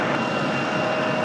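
A Republic Airways passenger jet at Raleigh-Durham International Airport, its engine roaring loud and steady from fairly close for a short stretch.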